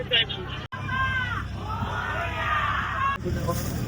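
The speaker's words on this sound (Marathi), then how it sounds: "मोठी गर्दी बघा आज." Large crowd at Murba Ganpati temple in the Mumbai and Navi Mumbai area, a dense murmur of many voices with shouting, over steady low rumble and a brief dropout.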